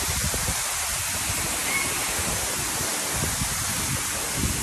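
A waterfall roars loudly and continuously, a dense broadband rush of falling water with no pauses.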